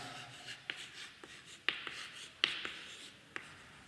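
Pen writing out a math derivation, light scratching strokes broken by several sharp taps and clicks at an irregular rhythm, quiet and close, with no talking.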